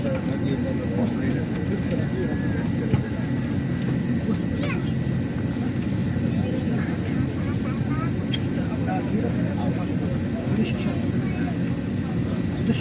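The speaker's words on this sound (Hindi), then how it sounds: "तो जहाज़ अब रवाना हो गई और मैं आपको दिखाऊंगी कि किस तरह से टेक ऑफ करता है।" Continuous loud cabin roar of an airplane getting underway for takeoff on a flight to Pakistan, a steady broadband drone with faint occasional clicks and no clear speech.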